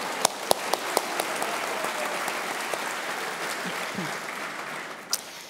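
An audience applauds a woman who lived many happy years in a long marriage, a steady broad wash of clapping from a seated crowd lasting several seconds with a few sharper individual claps near the start.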